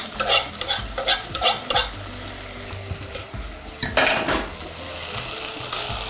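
Beef pieces frying in a pot, a steady sizzle with a string of spoon-against-pot scrapes and clinks as the meat is stirred, followed by a louder clatter.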